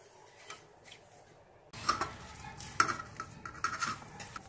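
Soft dough for plain fasting puri being mixed and worked by hand in a bowl, with quiet scraping and soft sticky knocks that pick up midway, including a few light clinks, close and without talk.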